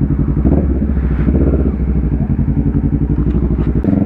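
A motorcycle engine idles and pulses loudly and close by at a motorcycle event, with a steady throbbing rhythm and a brief rev near the end.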